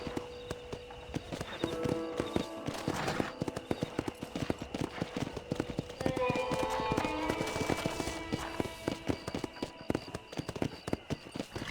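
Horse galloping in Red Dead Redemption, with a steady rapid clip-clop of hooves running throughout, loud and close.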